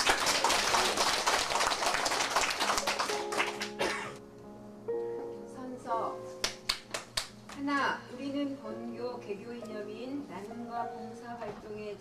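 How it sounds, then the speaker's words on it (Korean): Audience clapping at a ceremony for adult students at a secondary school, a dense burst of applause for the first few seconds that fades out, followed by speech and a few scattered claps. "박수로."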